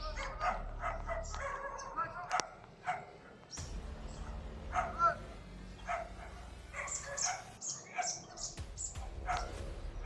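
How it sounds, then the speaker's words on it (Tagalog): A dog barks and yips in short bursts, mixed with some whimpering, amid background noise and voices. "Kaya pala may aso na tumatahol dun."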